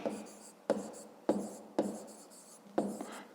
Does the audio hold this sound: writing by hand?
yes